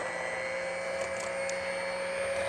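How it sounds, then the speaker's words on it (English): An electric hand mixer whisks coconut macaroon batter of sugar and egg whites, a steady close whirring motor hum with a sustained tone, running alone without pause. "we're going to whisk all this together using my hand mixer"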